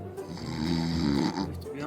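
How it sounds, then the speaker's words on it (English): A man snores loudly in his sleep, a steady rasping snore sustained across the whole stretch with a brief dip in the middle, close by and continuous. "He sleeps like this, snoring so loud."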